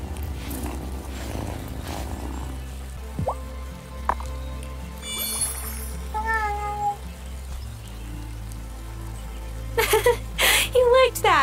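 A cat in the video game Wylde Flowers meows a few short times against a quiet, steady game background. A voice speaks briefly.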